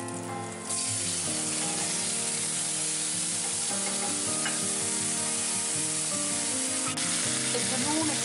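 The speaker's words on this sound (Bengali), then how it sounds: "রসুনের গন্ধটা একটু আসলে আমি টুনাটা ঢেলে দিচ্ছি।" Tuna poured into a hot frying pan with garlic sizzles steadily and fairly loudly, with a brief splash of liquid at the start and faint stirring clinks through the rest, no one talking.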